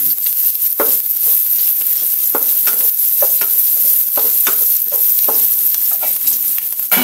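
Pork sizzling and frying in a pan with garlic and onion as it is stirred, a loud continuous hiss broken by scraping utensil strokes, with no talking.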